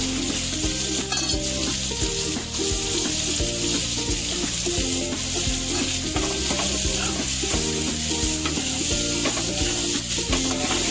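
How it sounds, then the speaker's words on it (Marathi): Chopped onions with curry leaves fry steadily in a pan for stuffed brinjal, a loud continuous sizzle running throughout with periodic scraping stirs and a low rhythmic hum underneath. "तांबू होईपर्यंत आपल्याला कांदा कोमून घ्यायचा"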